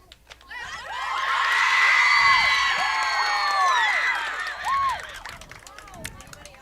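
Morrisville high school football crowd cheering at a night-game kickoff, a swelling roar of whoops and screams that peaks and then fades over several seconds, with clapping and shouts in the stands.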